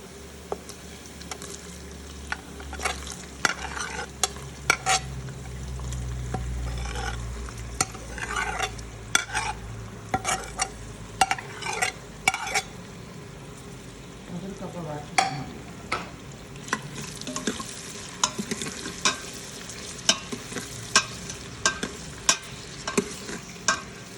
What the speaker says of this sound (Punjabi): ਆਪਾਂ ਪਿਆਜ਼ ਨੂੰ ਬਰਾਊਨ ਕਰਦੇ ਹਾਂ ਪਹਿਲਾਂ